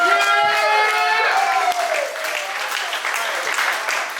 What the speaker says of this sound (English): put our hands together